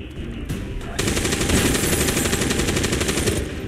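After a brief lull, video game cannons open up in rapid rhythmic firing that rattles on steadily, loud and close, a dense stream of shots.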